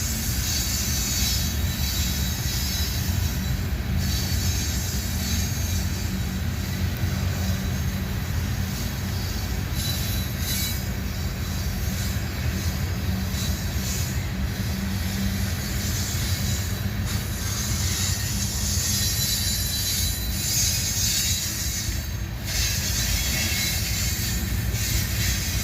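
A train rolls past in Abbeville, South Carolina, its wagons rumbling and clattering with high metallic wheel squeal, loud and continuous throughout, with no voices.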